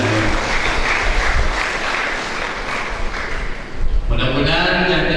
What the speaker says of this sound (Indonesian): Dan sekali lagi tepuk tangan.